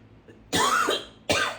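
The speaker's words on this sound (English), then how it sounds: "I'm about to have a coughing fit." Two harsh, forceful coughs in quick succession, close and loud, the second following the first after a brief pause.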